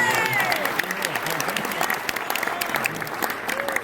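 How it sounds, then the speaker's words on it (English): Guests at a diversity and inclusion gala applaud the keynote speaker's mother, steady clapping from a large room with a few whoops and voices mixed in throughout. "you mind giving my mother a round of applause?"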